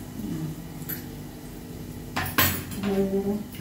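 A spoon scrapes and clinks against a pot while mango kadhi is stirred. The sound is close, with a few sharp metallic knocks over a low background hum.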